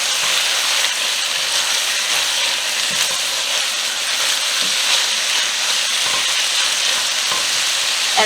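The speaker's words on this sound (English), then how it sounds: "As the tomatoes cook down, you're going to see the liquid rise a little bit" Tomatoes cook down in a pan for a keto steamed snapper dinner, giving a steady, even sizzle and hiss that runs unbroken throughout with no voices.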